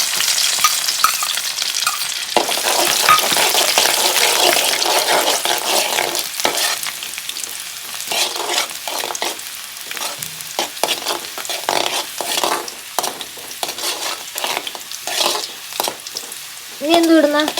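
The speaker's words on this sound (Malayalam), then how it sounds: "വെളുത്തുള്ളി ഇട്ട് കൊടുക്കുന്നുണ്ട്" Garlic fries in hot oil in a pan for a homemade lovlolikka pickle, a loud, close sizzle broken by repeated scraping stirs of a spoon against the pan.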